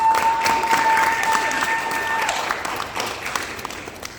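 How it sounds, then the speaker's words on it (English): Audience applause after a speech thanking event volunteers, a steady wash of clapping with some crowd noise and a few voices, sustained and fairly loud throughout. "Can we please give them a round of applause?"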